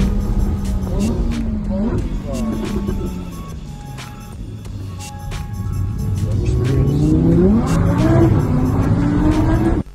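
A car engine winds down from high revs as the vehicle slows sharply, then the engine climbs again; voices and a gasp are heard inside the cabin.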